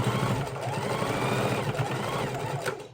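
A sewing machine runs a lock stitch over earlier stitching on a fabric bowl, a close, steady mechanical whir with a fast needle chatter that carries on unbroken and cuts off at the end.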